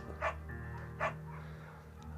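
A beagle named Bucket in the Firewatch video game gives two short barks about three-quarters of a second apart, standing out over a steady low background hum.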